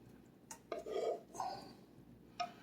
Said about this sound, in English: I'm dumping it inside the dish